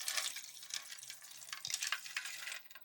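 Cold water poured into a container beside ice, a steady faint splashing and trickling that runs for a few seconds and then tapers off.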